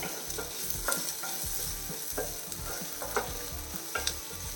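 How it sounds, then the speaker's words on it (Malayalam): Tomatoes sauté in a pan over a medium flame. A constant sizzle runs underneath, and a spoon stirs in a regular rhythm, scraping and tapping the pan about once a second. No voices. "മീഡിയം ഫ്ലെയിമിൽ വെച്ചിട്ട് വഴറ്റിയെടുത്താൽ മതി നമ്മൾ തക്കാളി നല്ല രീതിയിൽ വഴണ്ടിട്ടുണ്ട്"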